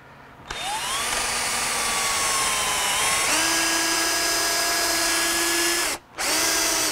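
A power drill runs hard through a car suspension bushing, a loud, steady high motor whine that shifts pitch as it loads up, stops for a split second, then whirs on again.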